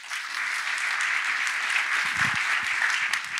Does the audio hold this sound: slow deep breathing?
no